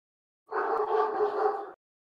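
Puppies give one brief, fairly loud, wavering howl lasting about a second, with clear silence before and after.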